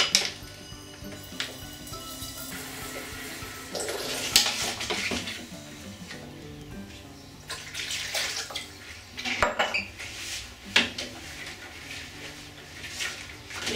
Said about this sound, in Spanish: Voy a hacer una mezcla a partes iguales de agua y vinagre